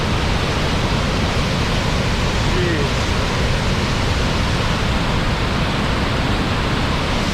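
A loud, constant roar of rushing falling water from a waterfall in the western USA fills the scene, broad and unbroken throughout.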